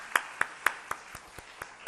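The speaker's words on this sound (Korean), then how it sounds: "다시 한번 큰 박수로 축복해 드리겠습니다." A church youth-service congregation gives a short round of applause, a few sharp claps that thin out and fade within two seconds, without speech.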